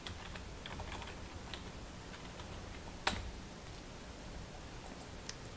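Android code being typed into Eclipse on a computer keyboard: a steady run of soft, close key clicks with one sharper, louder keystroke partway through, and no voices.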